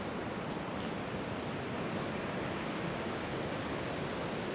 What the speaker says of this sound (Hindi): यहाँ से पुष्पावती नदी की आवाज़ है जो वो सुनाई देने लग गई है